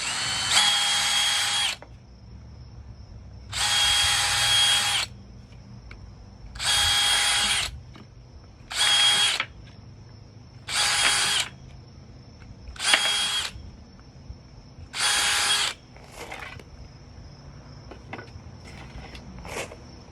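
Power drill pre-drilling screw holes for a wooden railing, seven short whining bursts of a couple of seconds each with quiet gaps between, close and loud.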